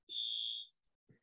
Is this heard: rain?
no